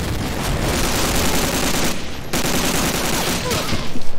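Dense, continuous gunfire from a Medal of Honor: Allied Assault video game battle, with rapid machine-gun bursts and overlapping shots, loud and unbroken apart from a brief lull.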